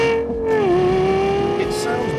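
Lexus LFA sports car engine holding a high, steady wailing rev, its pitch dipping briefly before settling, loud and close with no speech.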